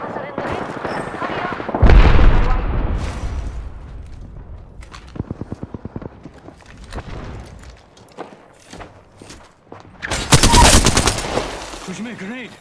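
Gunfire in the video game Apex Legends, with repeated bursts of automatic fire, single shots and booming blasts coming in uneven volleys. Players talk over the shooting throughout.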